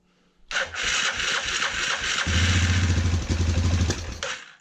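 An ATV engine with its airbox off cranks over and catches, settling into a loud, rough, clattering idle up close before cutting off.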